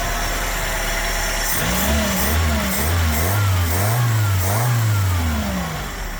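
A TE72 wagon's rebuilt engine idles, then revs up and down several times in smooth swells, close and fairly loud, with no voices.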